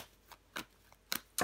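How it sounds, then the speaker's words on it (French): Tarot cards laid down and flipped over on a table, a few soft, brief papery slaps and swishes spaced out irregularly, close and quiet with no talking. "Je vais recouvrir des cartes."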